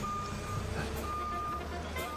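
A lorry being loaded backstage at a darts venue, its reversing alarm beeping steadily over a low diesel engine rumble, fairly close and continuous.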